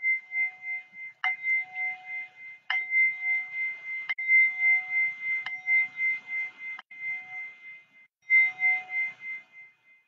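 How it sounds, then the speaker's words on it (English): Soft chimes and bells struck one after another at a slow, uneven pace, each tone ringing out and overlapping the next. "I'm gonna ground us with some chimes,"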